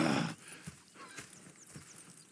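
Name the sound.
horses in the video game Red Dead Redemption 2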